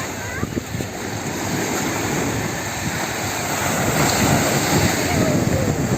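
Sea waves at Ören public beach in Burhaniye on a somewhat choppy evening, a steady loud wash of surf mixed with wind noise on the microphone, continuous for the whole stretch with no talk.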